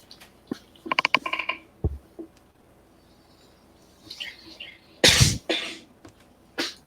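One loud, sharp sneeze bursts out near the end of a quiet indoor moment, after scattered soft clicks, rustles and small mouth noises.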